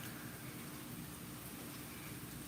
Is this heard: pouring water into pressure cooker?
no